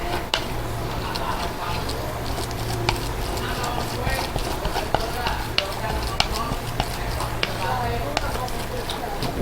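Carp fishing bait being mixed by hand with Sinta pellets, a steady rustling and stirring with small clicks and scrapes, voices present in the background.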